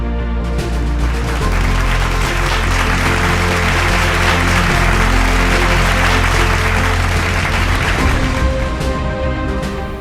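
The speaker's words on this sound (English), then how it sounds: "Give them a big round of applause" Sustained applause from an audience at an English declamation contest awards ceremony, a dense, steady roar of clapping that runs loud and unbroken for the whole stretch.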